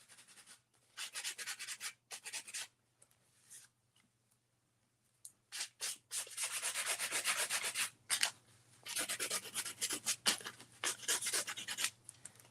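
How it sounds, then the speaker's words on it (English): Sandpaper, 220 grit, rubbed by hand over the centre of a wooden door hanger, in bursts of brisk scratchy strokes with short pauses, close and fairly loud over a faint steady hum. "I'm going to take like a 20 grit sand or 220 grit sandpaper and just kind of go over in the center a little bit"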